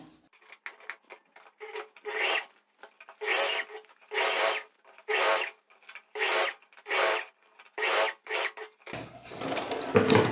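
A sewing machine runs in short bursts, about a dozen evenly spaced spurts of stitching close up as a tailored vest armhole is topstitched near the facing, separated by brief silences, ending in a noisier handling rustle.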